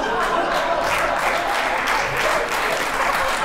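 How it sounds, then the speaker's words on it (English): An audience at a magic show breaks into a full, steady round of applause, dense and even from start to finish as a volunteer returns to her seat. "Give her a big round of applause as she takes her seat."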